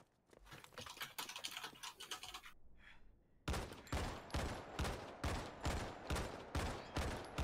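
Quick gunshots in the mobile shooter Go4MC5, first in uneven bursts, then a short lull, then evenly spaced sharp shots repeating close and clear.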